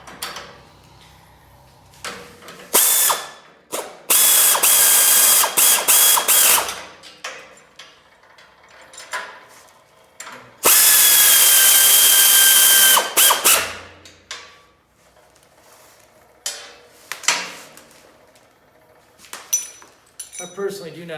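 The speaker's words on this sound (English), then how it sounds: "I personally do not like these air ratchets." An air ratchet tightens sawmill clamp bolts on a Woodland Mills HM130 Max in several loud, harsh bursts of two to three seconds, separated by quieter clanks of handling and intermittent talk.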